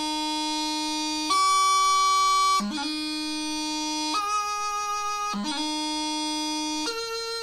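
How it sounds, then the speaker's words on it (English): Highland bagpipe playing a D throw ornament from each note of the scale in turn: a steady drone-backed chanter tone that steps through several held notes, each change flicked by a quick grace-note ornament, loud and close with no talk. "And that's a D throw from every note in the scale."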